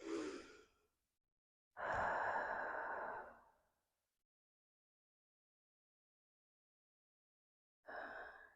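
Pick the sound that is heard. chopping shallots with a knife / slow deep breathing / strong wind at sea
slow deep breathing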